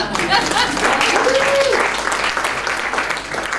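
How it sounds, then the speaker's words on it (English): Audience clapping at a plenum gathering, a dense burst of applause that starts loud and gradually thins out, with a brief tonal voice or whistle-like sound cutting through the clapping near the middle. "Give me a clap for that."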